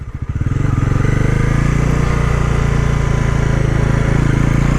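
A Bajaj Pulsar NS400Z motorcycle engine revs hard in first gear in road mode, a loud, close, steady buzzing drone that builds quickly after a sputtering start and holds strong, with no talking.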